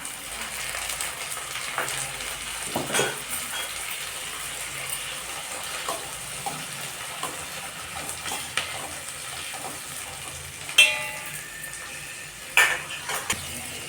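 Chopped tomatoes fry in a pan while pav bhaji is being cooked, giving a soft, steady sizzle with a few sharper clinks and stirring bumps near the end and no talk.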